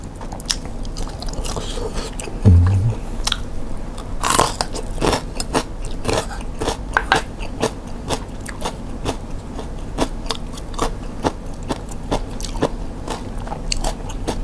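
Crispy-skinned glass noodle sausage gets bitten and chewed up close, with steady crunchy, crackling mouthfuls and no talking.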